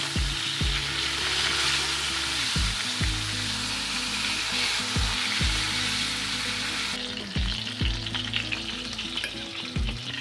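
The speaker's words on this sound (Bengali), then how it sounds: "এখন মাছগুলো ভেজে নেব।" Fish pieces fry in a pan with little oil, giving a constant loud close sizzle broken at regular intervals by knocks and scrapes of stirring. No one speaks.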